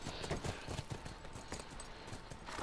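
Horse hooves clip-clop steadily in The Last of Us Remastered, a quick run of moderately loud repeated hoofbeats over a dense game soundscape.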